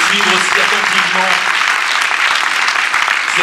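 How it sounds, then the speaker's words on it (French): Loud, dense applause from an audience at a film festival event, an unbroken wash of clapping holding steady throughout, with faint voices mixed in. "on peut les applaudir effectivement"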